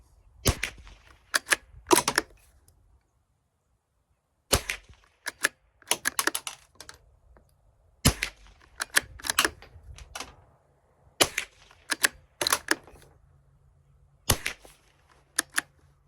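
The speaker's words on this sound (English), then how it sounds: "So that was 5 rounds unsuppressed, which isn't the quietest, but it's not super loud either." A Ruger American .22 LR rifle fired unsuppressed outdoors, a string of sharp cracks at irregular intervals, each followed by short clicks and handling rattles from the bolt and rifle, fairly close and moderately loud.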